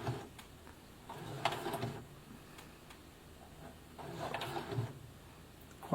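A Brother FS60X sewing machine slowly stitching a jeans hem, with two separate short runs of close mechanical whirring and needle thumps separated by quiet pauses.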